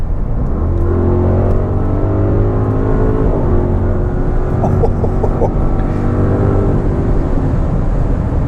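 A 2025 Audi RSQ8 Performance in RS2 mode accelerating hard with traction control off, its engine note climbing through gears in rising sweeps with brief shift breaks, loud and close against a constant road roar.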